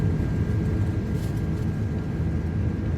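Jet engines of an Airbus Beluga XL spool at takeoff thrust in Microsoft Flight Simulator 2024, a loud continuous roar with a steady whine, alone.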